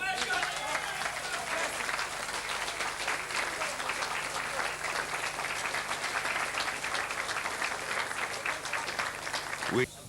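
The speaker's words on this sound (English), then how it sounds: "Please give a round of applause, ladies and gentlemen, to a great Castlebar man, Sean Corley" Audience applause at a boxing awards night in Mayo for Castlebar boxer Sean Corley, a steady, dense round of clapping held for about ten seconds before cutting off abruptly, with a faint hum underneath.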